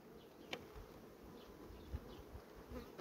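Honeybees hum in a dense, steady drone in a large 15-frame hive, close by, with occasional soft knocks over the buzzing.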